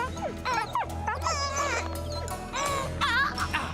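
A cartoon dingo, a wild dog, gives sharp yips and high whimpering cries over a bed of background music.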